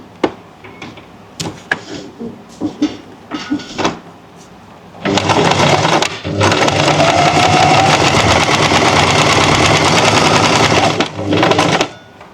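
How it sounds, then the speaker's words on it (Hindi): A sewing machine stitches along the edge of buckram for a neckline, first in a few short taps, then in two long steady runs of loud whirring and a final short burst. "इसके बाद बुकरम के किनारे किनारे सिलाई लगा लेंगे।"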